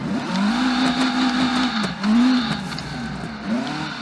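Race car engine in the Automation car game, revving loudly and continuously through rising and falling gear sweeps, with brief tire squeal.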